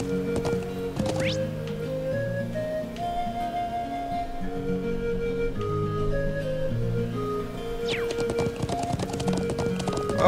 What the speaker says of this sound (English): How to ride a horse.